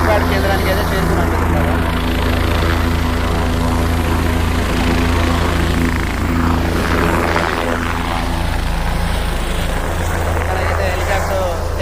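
Helicopter lifting off from a helipad at a festival gathering: a loud, steady rotor and engine drone close by, with crowd voices and talk mixed under the roar.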